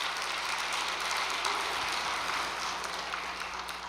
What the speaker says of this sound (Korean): 그 친구를 위해서 박수 한 번만 보내주시기 바랍니다.